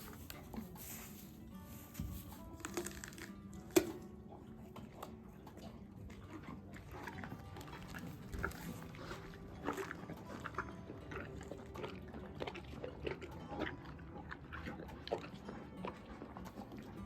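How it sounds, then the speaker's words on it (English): Horses slurp and chew their grain feed at evening chores on a farm, a quiet, close run of wet, irregular munching and lapping sounds that continues steadily. "Sound of slurping horses never gets old."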